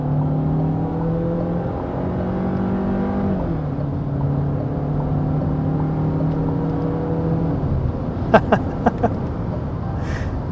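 A Nissan Tekton 1.3L turbo with a DCT gearbox launches hard from a standstill, its engine drone climbing steadily in pitch with a brief dip partway through, heard loud and close from inside the cabin.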